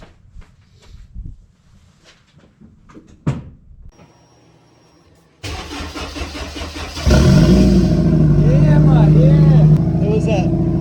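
A turbocharged Honda S2000 sits quiet on a chilly day while people talk and handle things nearby, then the engine cranks and catches partway through and settles into a loud, rumbling idle that rises with a few revs.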